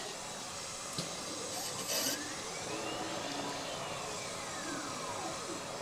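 A valve seat cutter machining an engine cylinder head gives off a steady, faint mechanical whir and hiss with a couple of brief scraping bursts near the start.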